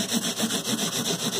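Repeated rhythmic strokes of 220 grit sandpaper rubbing across a guitar fingerboard near the fret ends, close and steady, about eight back-and-forth passes in quick succession.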